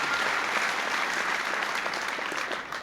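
Nurses and audience at a 1994 presidential bill signing clap steadily in a dense, sustained burst of applause, loud and continuous throughout.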